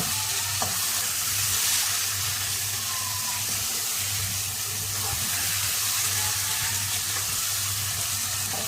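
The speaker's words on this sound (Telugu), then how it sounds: "ఇవన్నీ బాగా వేగనివ్వాలి. టమాటాలు బాగా మగ్గనివ్వాలండి, మెత్తగా ఉడికిపోవాలి." Tomatoes and spices for masala semiya fry in a pan with a loud, steady, close sizzle that carries on without a break, with faint stirring scrapes mixed in.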